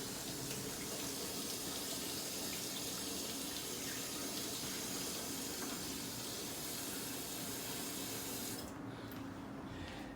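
Tap water runs steadily into a kitchen sink during handwashing, a continuous close hiss and splash that cuts off near the end.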